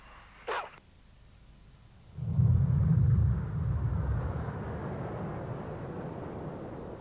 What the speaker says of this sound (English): wait for the 7 aircraft to fan out in 7 different directions with coloured smoke on